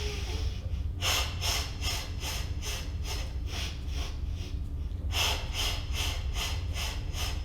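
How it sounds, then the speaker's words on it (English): Rhythmic, vigorous breathing during a mat Pilates exercise, quick sharp puffs of breath repeating in fast bursts, pausing briefly before resuming, close and fairly quiet over a low background hum. "Nice, vigorous breath."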